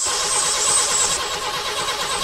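A van engine cranks and catches in a short, loud, close burst of hissy, grinding mechanical noise, with no voices.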